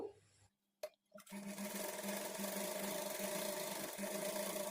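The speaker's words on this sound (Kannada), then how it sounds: "ಈಗ ಈ ಕ್ಯಾನ್ವಾಸ್ ಆ ಕಡೆ ಈ ಕಡೆ ಹೋಗ್ದಂಗೆ ಮಧ್ಯದಲ್ಲಿ ಒಂದು ಸ್ಟಿಚ್ ಮಾಡ್ಕೊಳ್ಬೇಕು" A sewing machine stitches blouse lining and canvas together in a steady, continuous hum after a brief start-and-stop, close and alone for several seconds.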